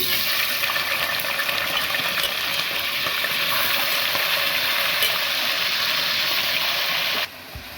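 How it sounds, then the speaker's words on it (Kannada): Steady, loud sizzling of washed chicken pieces frying in oil for capsicum chicken fry, a continuous crackling hiss that cuts off abruptly near the end. "ನಾನು ಚಿಕನ್ ಫ್ರೈ ಮಾಡ್ತಾ ಇದ್ದೀನಿ"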